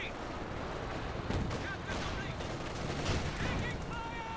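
Artillery and gunfire rumble in Company of Heroes 2, a dense barrage of bursts and shots with blasts standing out, mixed under a caster's commentary.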